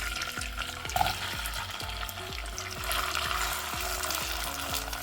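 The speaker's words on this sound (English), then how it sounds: "before it starts splattering, I'm going to add in the onions" Onions fry in hot oil with a steady, close crackling sizzle, while repeated stirring strokes knock and scrape at a regular pace throughout.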